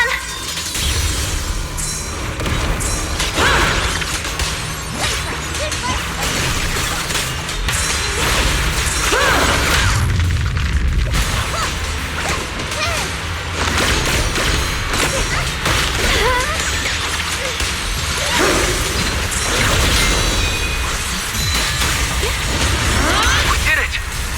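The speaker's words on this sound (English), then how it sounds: "all squads are doing their best to destroy the boulders" Combat in the video game Zenless Zone Zero as squads smash boulders: a dense, continuous wall of loud crashes, booms, whooshes and mechanical clatter, with game voices running over it.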